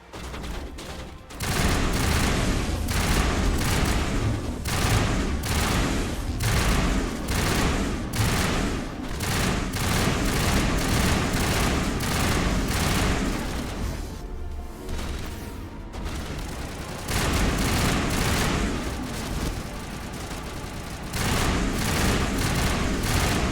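Sustained assault rifle fire in Mass Effect Legendary Edition: loud, dense rapid bursts filling the whole stretch, broken by a few brief pauses, with booming impacts mixed in and no talking.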